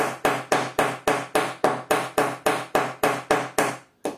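Repeated metal hammer taps on the thread catcher (thread sweeper) part of an embroidery machine, about fourteen sharp, evenly spaced strikes close up, with nothing else heard between them.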